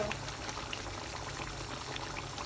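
Water is poured into a pot of cooking mutton curry, making a faint, steady rushing and bubbling sound throughout.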